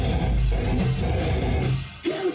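An Orlando hardcore band plays live at Will's Pub, a loud, dense and distorted wash of heavy bass, drums and guitars, heard as a continuous roar with a brief dip near the end.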